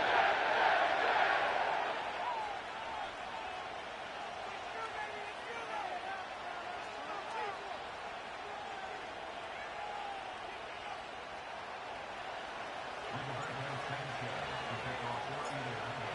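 A video-game crowd roars in a stadium during an EA Sports football game set at MetLife Stadium for Colts versus Jets, a loud swell of cheering that settles into a steady hum under a commentator's voice.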